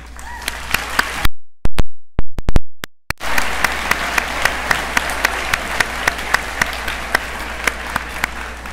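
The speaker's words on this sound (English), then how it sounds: "give yourselves a round of applause" Audience at a high school ceremony applauding loudly, a dense sustained clapping that briefly cuts out and then resumes at full strength for the rest of the stretch.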